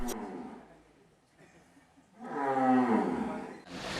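Sacrificial cattle being checked for health let out a long, loud, close moo that swells and fades, following a quieter stretch of low animal sounds.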